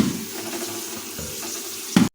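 Potatoes fry in hot oil in a pan, giving a steady broadband sizzle that runs throughout, with a brief louder clatter at the very end.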